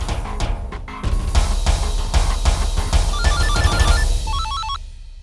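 A ringtone-style telephone ring in a domestic scene, dense melodic electronic chimes running continuously for several seconds at steady loudness over a busy musical backdrop, with bright repeated beeping tones near the end.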